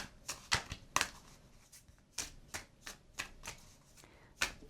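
Tarot deck being shuffled by hand, a series of crisp riffling bursts and soft card slaps repeating at an uneven rhythm, close and clear with no talking.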